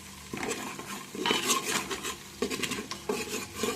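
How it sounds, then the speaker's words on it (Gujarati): Home-ground garam masala being stirred into potatoes in a pan with a spoon, giving close, steady scraping and clinking against the metal over a faint background sizzle, with no talking. "તો આપણે એને મિક્સ કરી અને જે આપણે બટેટા છે એ પણ નાખી દઈએ।"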